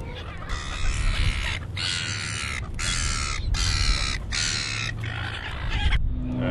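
Seagulls call loudly outdoors in a series of harsh, repeated squawks, close by and in quick succession over steady background noise.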